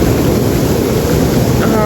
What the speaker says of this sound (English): Ooh, it's pretty windy actually.